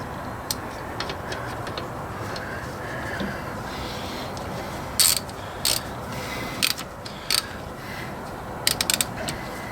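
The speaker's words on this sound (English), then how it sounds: "Nothing like trying to turn a slick ratchet with oily hands." Ratchet being worked on seized air conditioning pipe clamp bolts during a condenser replacement on a Vauxhall Corsa, giving scattered short clicking bursts, louder toward the end, over steady background hiss.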